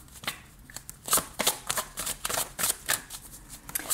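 Tarot cards shuffled by hand for a reading, a run of crisp riffling bursts and soft slaps repeating in quick, uneven rhythm, close and clear with no talking.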